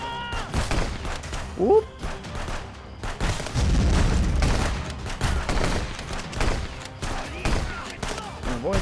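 Gunfire in Wizard with a Gun, a rapid fusillade of shots and booms scattered across the scene amid chaotic combat noise, with a voice speaking briefly.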